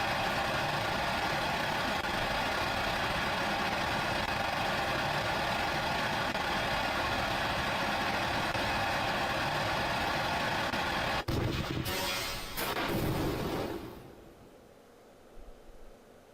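Jet engines roar steadily in Kerbal Space Program, a continuous loud broadband drone that falters and swells in bursts near the end before dropping away to a much quieter hum.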